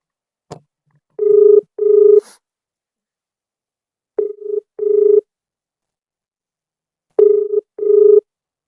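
A phone line rings back on an outgoing call with three paired double rings, evenly spaced and clear against silence, with a faint click before the first pair.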